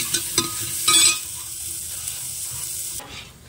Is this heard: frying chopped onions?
yes